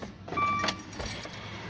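Keys jangle as a key turns in the ignition of a 2016 Dodge Dart SE, switching the car off; short metallic rattles up close with a faint click, no talking.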